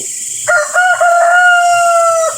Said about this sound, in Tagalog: kung naririnig nyo ay nagtitilaok na po yung manok